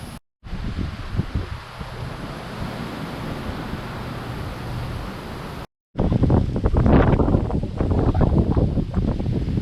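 Strong wind buffets the microphone at a lakeside campsite in bad weather, a rough roaring rush that rises into heavier gusts after a brief cut, with no talking.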